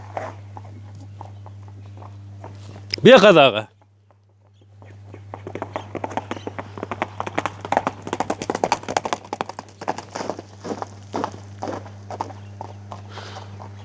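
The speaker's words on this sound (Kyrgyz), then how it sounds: "Күлүк жылкы экен." A racing horse walks on hard ground, its hooves clip-clopping in an irregular, moderately close patter after a short loud burst, with a steady low hum beneath.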